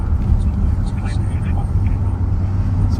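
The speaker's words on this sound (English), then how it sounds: "Sounds like the helicopter's up too" A helicopter flies overhead during a sheriff's patrol, a low continuous rumble that stays steady as quiet voices murmur over it.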